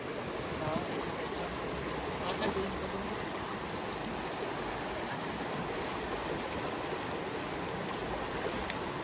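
Continuous rushing of river water, a dense steady flow close by that never lets up.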